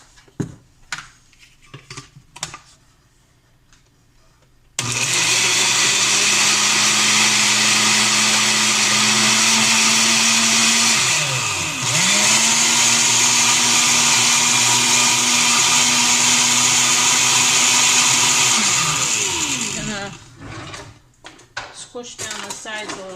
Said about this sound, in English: Then you blend it up.